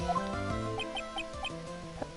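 Pigeon cooing sound effect from the Phoenix Wright video game, a short run of soft chirpy calls repeated several times over steady game music.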